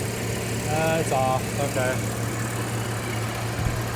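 A 1984 Corvette engine, run after sitting parked for two decades, idles at about 800 RPM with a steady low hum throughout, while a person talks briefly over it near the start.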